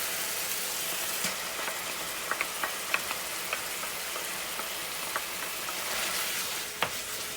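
Red curry paste and ginger garlic paste frying in a pan, a continuous soft sizzle broken by a scattering of light ticks and stirring taps, with no speech.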